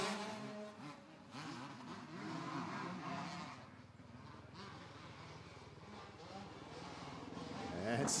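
Two-stroke motocross bikes rev and drone at the start of an open-class supercross race, a blurred mass of engine noise swelling and dipping in the distance while an announcer talks over it.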